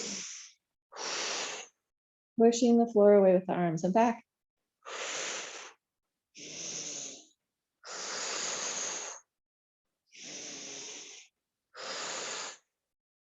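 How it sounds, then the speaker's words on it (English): Deep, forceful breaths during a floor mat exercise come in a slow, regular rhythm of separate inhales and exhales, close and clear, with an instructor briefly speaking between them. "Big breathing."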